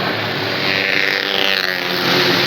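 Yamaha V80 two-stroke motorcycle with a racing exhaust revving, a loud rasping engine note that rises and falls as the throttle is blipped while riding, with no speech over it.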